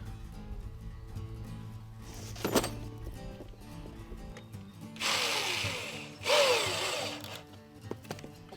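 A power drill drives long screws into wooden boards in two short, loud whirring runs about a second each, with quieter handling knocks between them.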